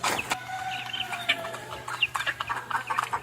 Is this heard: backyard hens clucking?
yes